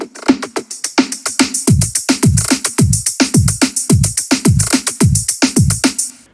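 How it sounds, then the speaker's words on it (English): A chopped drum loop from a Cashmere pack hits punchy kicks and snares in a quick, bouncy rhythm, loud, close and alone with no talk. "this one is from a Cashmere pack, of course, and it sounds like this with the kick and snare"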